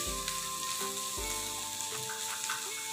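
Egg and bottle gourd peel bhaji sizzles and fries steadily in a pan, with a few soft stirring scrapes over a continuous close crackle.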